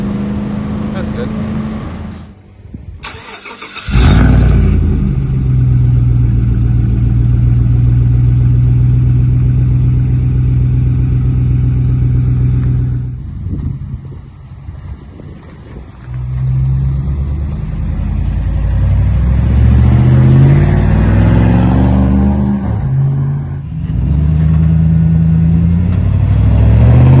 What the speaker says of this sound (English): We went ahead and cut the muffler off the old cop car. It sounds way better.